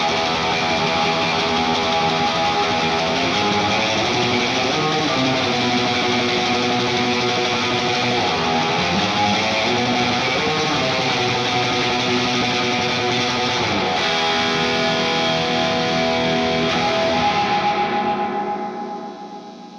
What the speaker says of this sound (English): This is the sound of the Echo Fix spring reverb going in the front of my Marshall amp.